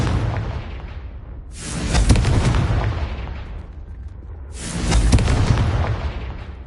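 Two heavy booming blasts from the Confringo spell in a Harry Potter video game, each swelling loudly with a long rumbling tail, spaced about three seconds apart over a continuous low roar.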